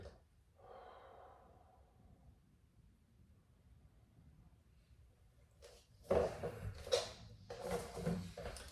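A person exhales during an exercise session: a soft, drawn-out breath out near the start, followed later by louder rustling and bumping sounds close by.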